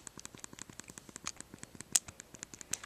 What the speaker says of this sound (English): your power button, D-pad, your A, B, X, Y buttons, which are very clicky